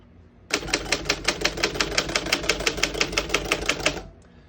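Rapid, steady keystrokes clack on a 1909 Remington No.12 antique desktop typewriter, about twenty crisp, evenly spaced strikes in a close, loud run with no talking, ending in a slight pause.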